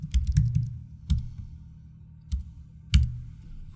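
Scattered clicks of keys on a computer keyboard, a quick cluster of taps at first, then a few isolated keystrokes spaced out over several seconds, close and fairly quiet.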